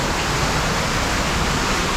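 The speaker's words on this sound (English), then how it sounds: "Okay, so there's a waterfall." A waterfall pours down flowstone inside a cave, producing a loud, steady broadband rush of falling water with no breaks and no voices.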